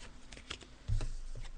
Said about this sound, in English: I'm just shuffling them now